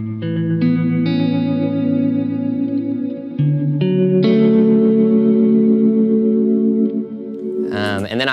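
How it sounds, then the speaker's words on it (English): Sustained electric guitar chords ring out with a long, repeating delay that trails and smears each note, ending in a swirling burst. "And then I have just a really long tape delay, so a lot of repeats"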